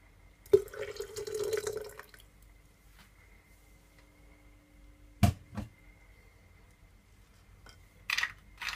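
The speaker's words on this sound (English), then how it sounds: "And I'm gonna also add some water to it." Water poured into a strawberry mint mocktail in a glass, a brief close splashing pour near the start followed by quiet and a few scattered knocks and drips.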